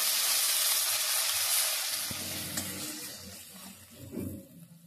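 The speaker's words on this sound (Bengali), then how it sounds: "তিনটে পেঁয়াজ আমি এরকম থেতো করে রেখেছি, দিয়ে দিচ্ছি। এবার খুব ভালো করে আমি ভেজে নিচ্ছি।" Three crushed onions hit hot oil in a pan with a loud, bright hiss that slowly fades to a softer sizzle, with faint scraping near the end.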